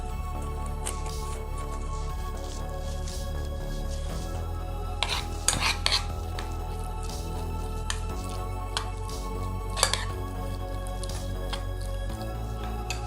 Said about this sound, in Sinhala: මේ විදිහට දාලා මේ ටික හොඳට කලවම් කරගන්න ඕනේ.